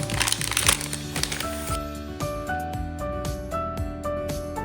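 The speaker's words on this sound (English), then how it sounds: "Tear the plastic packaging off the ink cartridge." Plastic packaging is torn off a NEWYES LD0806 portable inkjet printer's ink cartridge, giving close crinkling and cracking sounds beneath steady background music.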